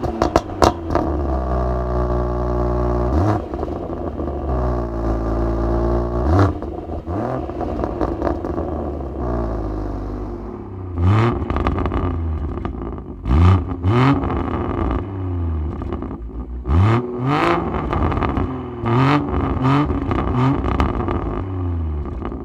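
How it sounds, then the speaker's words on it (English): A BMW M140i/M240i fitted with a BCS Powervalve exhaust revs hard and close, its engine note rising and falling in repeated blips, with sharp pops and bangs crackling between revs. "you hear a lot more pops and bangs than the original exhaust"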